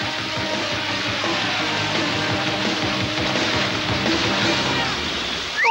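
Cartoon waves churned up behind Sonic's speeding boat: a continuous rushing, sloshing water roar at steady loudness, with a brief swell at the very end.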